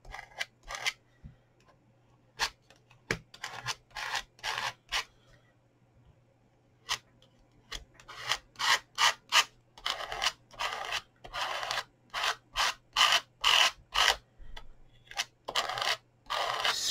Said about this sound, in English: Scrape off any excess